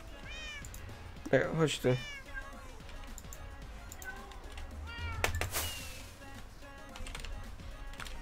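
Cats meowing in the video game Minecraft, several clear mewing calls with a louder cluster early on, mixed with quiet keyboard typing and brief voices talking.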